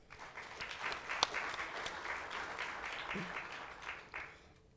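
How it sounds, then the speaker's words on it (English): Audience applause at a community celebration with student and cultural groups, a sustained round of clapping from a moderately sized crowd that fades out at the end, with a faint voice briefly audible underneath. "let's give them a round of applause."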